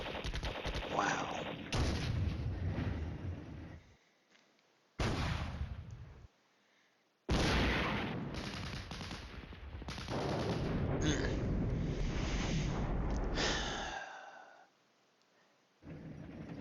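Artillery fire in the wargame Flashpoint Campaigns: Red Storm, with long loud roaring volleys of gunfire and blasts broken by brief silent gaps, dense and continuous during each burst.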